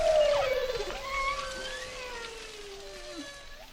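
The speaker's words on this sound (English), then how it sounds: "You heard the whale singing its song." A whale sings one long, slowly falling moan with faint higher overtones, steady and fairly close, and nothing else is heard alongside it.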